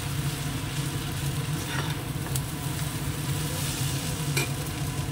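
Chow mein sizzles steadily in a hot pan as it is stirred with a splash of vinegar, a constant frying hiss with soft scraping throughout, close and fairly loud with no voices.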